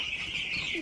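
Week-old meat-bird chicks clucking and peeping in a steady, continuous chorus, close by with no talking over them.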